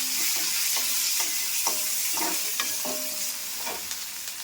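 Tomatoes for a moong dal rasam fry in an oiled pan with a continuous sizzle, while a spoon scrapes and clinks against the pan in repeated stirring strokes; no voices.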